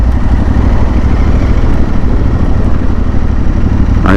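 Aprilia Tuareg 600 motorcycle engine runs steadily while being ridden, a loud, constant mid-pitched thrum with wind rush, no speech.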